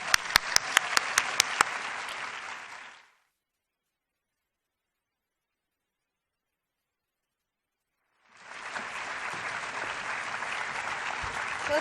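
A lecture audience claps to welcome a speaker, loud sustained applause with a few sharp claps at the start, fading to silence, then another long round of clapping.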